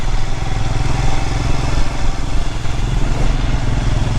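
An adventure motorcycle rumbles loud and close on a rough mountain road near Lachung in North Sikkim, its engine churning continuously with uneven thumps and clatter from the bumpy track.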